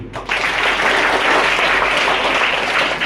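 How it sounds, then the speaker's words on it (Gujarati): An audience applauds loudly at a school ceremony honouring a donor, the clapping swelling quickly after a brief quieter start and then holding as a dense, sustained wash to the end. "સન્માન પુષ્પગુથ્થી અને તાળીઓથી કરીએ"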